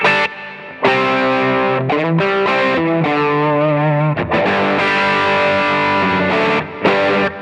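Electric guitar driven through an OCD overdrive pedal on the bridge pickup with a large reverb, playing loud distorted rock chords with a brief pause near the start and another near the end, ringing sustain and a washy tail.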